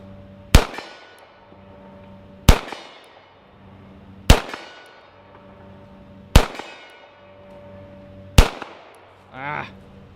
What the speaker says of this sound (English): Let's see how well this little Beretta, which I affectionately call my burrito, I can shoot with one hand at 50 yards.